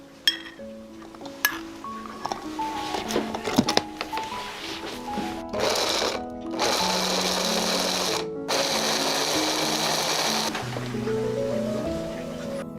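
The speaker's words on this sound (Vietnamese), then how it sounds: "Phần tôm khô mình đã ngâm mềm, cho vào cối xay nhuyễn luôn" An electric grinder blends soaked dried shrimp in a kitchen. Clinks and clatter come first, then the grinder whirs in two loud bursts broken by a short pause, with a chiming melody running underneath throughout.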